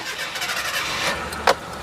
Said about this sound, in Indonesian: Kita nyalain Mitsubishi Kuda tahun 2000.